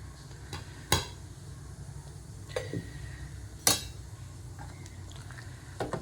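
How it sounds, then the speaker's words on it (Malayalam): A spoon stirs raw spice powders into sambar in a metal pot, giving a few sharp, separate clinks against the vessel over a low, quiet background hum, spaced irregularly about a second or more apart. "ഞാനിവിടെ ചൂടാക്കാതെയാണ് പൊടി ഇതിലേക്ക് പച്ചയ്ക്ക് തന്നെ ഇട്ട് ഇളക്കി കൊടുക്കുവാണേ"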